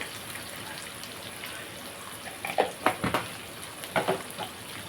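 Green chillies fry with turmeric in a pan for a Telugu eggplant and ginger curry, giving a low sizzle and several sharp crackling spurts in the latter half.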